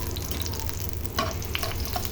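Onion and garlic frying in a generous amount of oil for a bitter gourd and potato stir-fry, a steady close sizzle with a few brief stirring clinks.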